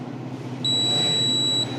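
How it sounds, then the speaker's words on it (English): Neurotherapist's electronic beeper giving a single long, steady high-pitched tone lasting about a second, loud and clear over a low background hum. "when I press this one, it gives me a short beep, waits for certain period and gives a long beep"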